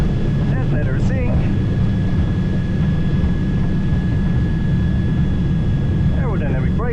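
Engines of a 1960 Beechcraft Twin Bonanza on landing approach drone loudly and steadily from inside the cockpit, with a constant tonal whine, while brief voices briefly sound over the engines.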